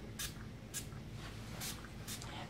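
Four short hissing bursts of spray tan mist, quiet and close, spaced unevenly over a low background hum.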